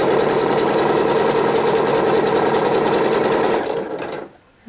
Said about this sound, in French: On met le point zigzag, on se positionne ici, point d'arrêt, et ensuite en avant.